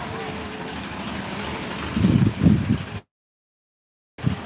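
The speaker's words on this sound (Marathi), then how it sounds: "वातावरण झालेलं आहे सर्व पाऊस पण पडत आहे" Steady rain falls across a rural village in an unbroken hiss, with heavier drops and spatters thickening for a moment before a brief silent gap, then the rain returns.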